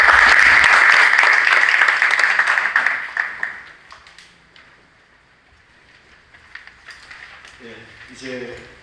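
Audience applause at a church theology public hearing, loud and dense at the start, then thinning out and fading over about four seconds into quiet room tone, with a voice speaking briefly near the end.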